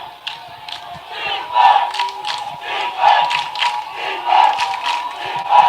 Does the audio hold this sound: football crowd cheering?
yes